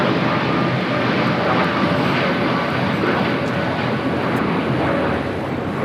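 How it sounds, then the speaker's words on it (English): An American Airlines Boeing 787-8 Dreamliner takes off at LAX, its engines a loud, steady broadband roar that holds at full strength for the whole stretch with no talk. "1526 taking off to Miami, Florida on a 787-8 Dreamliner"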